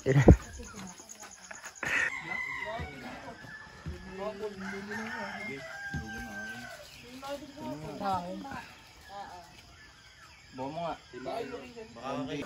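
Chickens clucking in a rural mountain village in Tingloy, with intermittent fowl calls mixed among people talking nearby and a faint insect chirr in the background.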